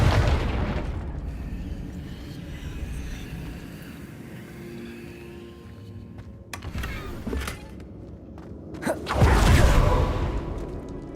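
Confringo fire-blast spells in the video game Hogwarts Legacy, a couple of sharp booming bursts with crackling decay over a low ambient game background, the heaviest blast near the end.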